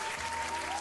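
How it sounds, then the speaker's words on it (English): A short burst of canned applause played from a soundboard, dense steady clapping at a uniform level throughout. "Have a round of applause to my rigor."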